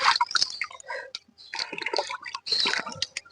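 Splashing and sloshing water as Aral fish are washed by hand, in close, irregular bursts of swishing and dripping with short pauses between.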